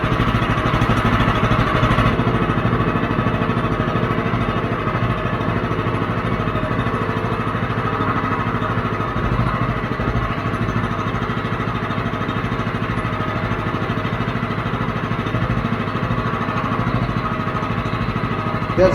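A Predator 212 small engine running with a muffler fitted, a continuous, loud, even chugging drone that holds steady throughout with no talking.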